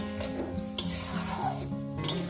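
Spice paste with water fries in a pan for a fish curry with potato and eggplant, giving a continuous close sizzle and scraping stirs over a couple of seconds.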